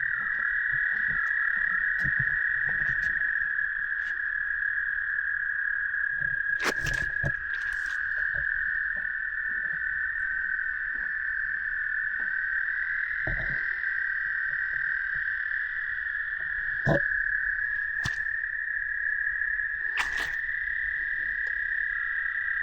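Spring peepers calling in a mucky marsh, a dense continuous chorus of high shrill peeps with some louder nearby calls standing out, plus a few thumps and splashes of someone moving close by.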